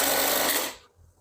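A Juki 1900 industrial bar-tack sewing machine stitching, a loud dense mechanical whirr that runs for under a second and then cuts off, leaving a faint low hum.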